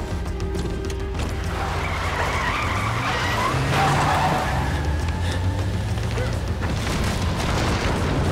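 A car in the horror video game The Evil Within speeds with a loud, continuous engine roar and repeated tire skids, with booming impacts mixed into the dense game sound.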